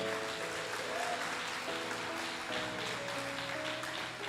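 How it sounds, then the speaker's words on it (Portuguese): A church congregation applauds during a worship service, a soft, even wash of clapping blended with sustained musical tones underneath. "Aplaude ao Senhor, aleluia!"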